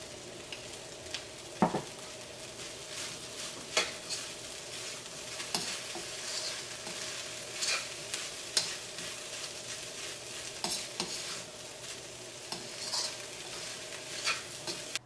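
A spoon scrapes and stirs through tomato rice in a pan as tomato gravy is mixed in, with soft sizzling underneath and irregular clinks and scrapes against the metal.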